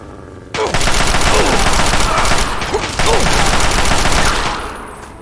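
Gunfire in modded Fallout 3 on PC cuts in abruptly as loud, dense automatic bursts that run for several seconds and then fade, with a brief lull in the middle.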